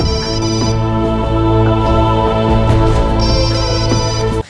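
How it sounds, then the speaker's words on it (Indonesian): A telephone rings steadily with a loud, continuous electronic ringtone melody that runs unbroken until it cuts off abruptly near the end. "Johnny yang mendengar teleponnya berdering itu tak menghiraukannya"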